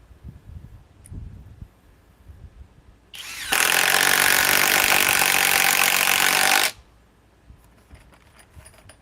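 A cordless impact wrench, a 3/8-inch model, runs in one loud, steady burst of about three seconds, close by, with quiet room noise before and after.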